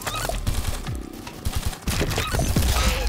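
Squirrels fire eggs in a cartoonish video game about birds with guns, making rapid popping volleys and clicks in quick bursts over a busy game soundscape.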